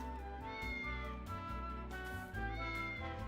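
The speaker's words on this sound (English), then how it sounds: "What, a cat?" A cat meows in the video game Triangle Strategy: a few drawn-out, close meows over a steady layer of in-game music, with no talking.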